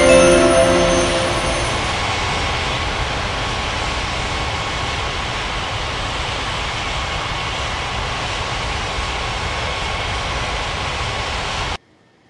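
A jet airliner in the air traffic control game Unmatched Air Traffic Control takes off with a steady, loud engine roar that holds evenly for about twelve seconds and then cuts off abruptly.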